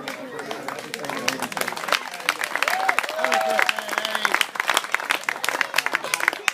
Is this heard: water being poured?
no